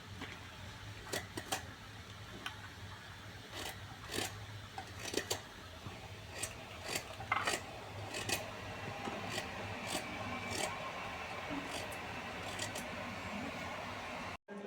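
Fresh amla (Indian gooseberries) being sliced with a knife at home, giving quiet, irregular cutting clicks and taps over a faint background hum.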